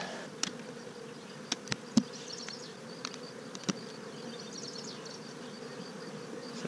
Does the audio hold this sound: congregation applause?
no